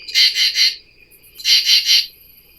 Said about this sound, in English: We have a cricket in the house.